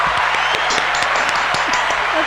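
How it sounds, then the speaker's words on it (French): Applause breaks out at the launch of a village TV show with the mayor and his deputies: a small group claps in sharp, uneven bursts, close by, under a steady murmur of voices. "on peut s'applaudir après tout."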